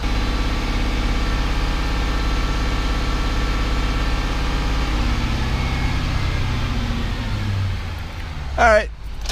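A Ford 6.7-litre diesel truck engine idles steadily after warming up, a low, even rumble that fills the scene before a brief voice breaks in near the end.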